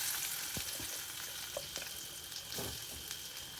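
Crushed masala spices hit hot coconut oil for a soy roast, giving a steady close sizzle with a few clicks and scrapes from stirring throughout.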